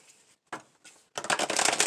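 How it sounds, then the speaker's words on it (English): Tarot cards being shuffled by hand: two short soft riffles, then a denser, louder run of rapid flicking card noise close to the mic, with no talk. "We are going to shuffle that. Reshuffle that."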